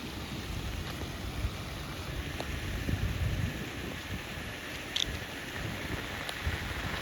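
Steady rain patters down without a break, a dense wash of drops with a few sharper taps, no voices present.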